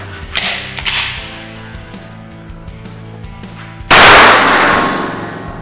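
A Taurus TX22 .22 pistol fires during a torture test, with a few sharp shots and the metallic clack of the slide cycling, then one loud blast that rings out and slowly fades, close to the shooter.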